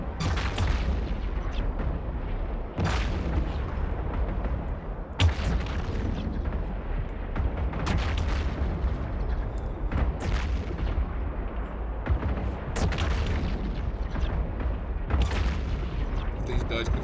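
Repeated booming ship weapons fire in the space game EVE Online, heavy blasts recurring every couple of seconds over a dense, continuous rumble of combat noise.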